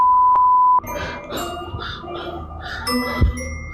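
A door alarm sounds a single sustained electronic beep that cuts off abruptly, followed by soft rustling and a dull thud.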